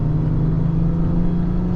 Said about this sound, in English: we'll do a bit more of a higher RPM accel here in second